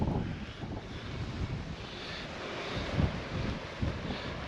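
Steady wind at a windy night campsite on the South West Coast Path, a broad, continuous rush with gusty buffeting against the microphone and no voices.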